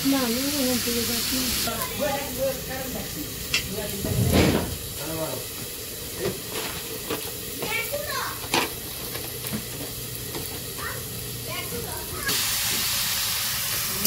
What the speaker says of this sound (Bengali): বেগুন প্রথমে কষিয়ে নিচ্ছে